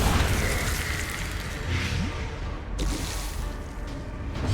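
Corpse Explosion skill in modded Darkest Dungeon, a dense, loud rumbling blast with squelchy, wet bursts and pops layered over game noise, lasting throughout with a sharp burst near the middle.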